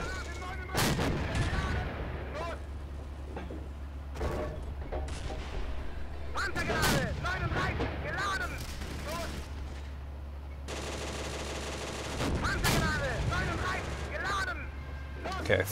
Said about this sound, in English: I will keep shooting at this thing until I think that it's taken out.